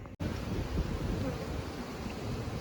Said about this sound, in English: shaking these bees out, so they're going to get pretty angry with me